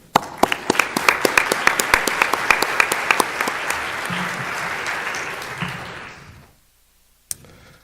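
Audience applause at the NDSA Individual Innovation Award ceremony, a lively room of clapping with a few sharp near claps on top, sustained for about six seconds before fading to silence, then one last clap.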